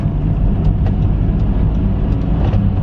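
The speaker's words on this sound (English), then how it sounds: "My 2-litre engine can handle this" A VW T5 van with a 2-litre engine drives along, a steady loud rumble of engine and road noise with faint clicks and rattles throughout.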